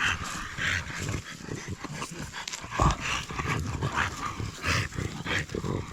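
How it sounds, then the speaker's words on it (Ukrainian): Dogs dashing about in a forest during mushroom picking, with repeated nearby yips, barks and rustling movement over steady outdoor noise, without talk. "Собакены носятся."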